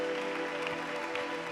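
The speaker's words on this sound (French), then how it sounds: "Merci d'acclamer Jésus" A church congregation applauds and cheers for Jesus, a dense wash of clapping from a large crowd that holds steady at a moderate distance with no clear pauses.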